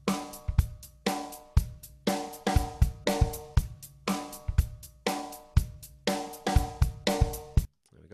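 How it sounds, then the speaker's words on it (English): A basic 4/4 drum beat plays back in Cubase, steady kick, snare and cymbal hits repeating in even bars for several measures before stopping abruptly. "I already have a drum beat, a basic 4/4 drum beat imported into Cubase."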